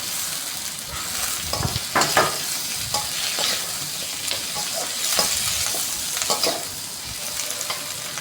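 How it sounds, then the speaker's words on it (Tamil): Onion, garlic and two large chopped tomatoes sauté in a pan for a spicy sundakkai curry, a steady sizzle broken by repeated scraping stirs of a spoon, close and fairly loud with no voices. "வெங்காயம் பூண்டு நல்லா வதங்கி வந்ததும் கட் பண்ணி வச்ச 2 பெரிய சைஸ் தக்காளியை சேர்த்து நல்லா வதக்கி விட்டுக்கலாம்."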